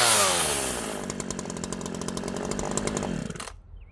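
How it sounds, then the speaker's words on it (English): A small free chainsaw under 50 cc, rough but running, revs loudly and close with a buzzing two-stroke whine that holds steady, then cuts off abruptly near the end. "It's not bad for a free chainsaw."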